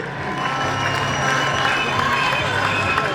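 A large outdoor crowd at a football match in Machakos applauds and cheers the players, a dense steady roar of clapping and voices throughout, with a voice speaking over it.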